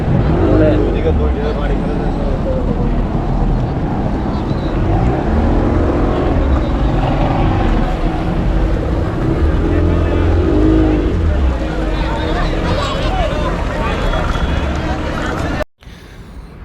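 A speedboat races across the sea at Patenga with a loud, continuous roar of engine and rushing water close by, and people talk over the noise until it suddenly cuts off near the end.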